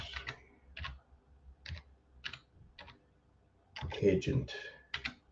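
Clicky computer keyboard typing comes in short bursts of keystrokes, close and clear, while a person speaks over part of it.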